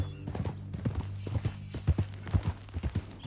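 Horse hooves clip-clop at a steady walking pace in Red Dead Redemption 2, with distinct repeated thuds close by over a low ambient drone and occasional faint tack sounds.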